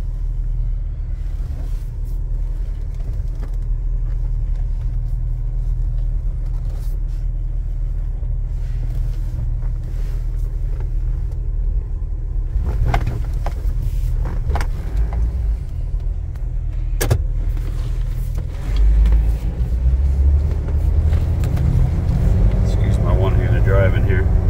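A 2006 Jeep Wrangler Rubicon with an aftermarket lift drives along with a steady low engine and road rumble heard from inside the cab, building toward the end, with occasional clicks and knocks.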